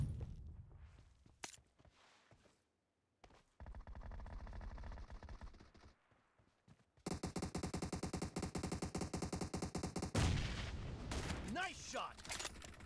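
Video game gunfire: bursts of rapid automatic shots in dense rattling runs, broken by short pauses and quieter stretches, with some voice and game sounds mixed in.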